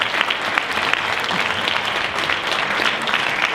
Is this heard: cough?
no